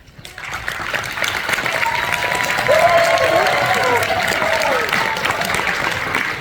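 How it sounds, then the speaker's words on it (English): Audience at a community presentation cheering and applauding, a swelling wash of clapping with a few raised voices that builds and holds, loud and close. "maybe that loud cheer was from the volunteer program from Walnut Diamond Bar"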